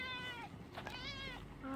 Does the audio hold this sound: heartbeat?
no